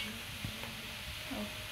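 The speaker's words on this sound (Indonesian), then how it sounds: "Goreng agak kekuningan." Kue akar kelapa dough fries in hot oil with a steady, soft sizzling hiss, close and continuous, with a brief stir or clink partway through.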